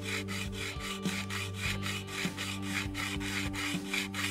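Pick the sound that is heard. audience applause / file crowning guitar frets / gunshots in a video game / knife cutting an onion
file crowning guitar frets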